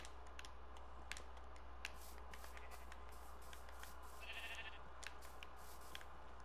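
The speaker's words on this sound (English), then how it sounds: "Okay, more sheepies." Sheep bleating in the Minecraft video game, short game-sound calls over a steady low hum with faint clicks, no talking.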